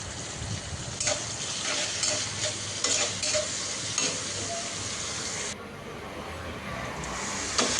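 Onion and sliced green chilies frying in a pan for a potato and pointed gourd bhaji, a steady sizzle with several sharp scraping stirs, the frying dropping slightly quieter late on.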